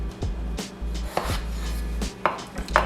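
A knife slices potatoes into quarters on a cutting board, several close, crisp chops spaced unevenly with no talking.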